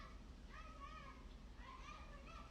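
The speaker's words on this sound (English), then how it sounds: "You can hear my neighbors outside." Children play and call out faintly outside an open apartment window in New York City, distant voices rising over a low, steady background rumble.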